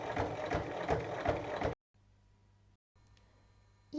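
Sewing machine topstitching around a fabric makeup pouch, a close, fast rhythmic mechanical whirring and clatter for under two seconds, then near silence with a faint hum and a brief restart at the end.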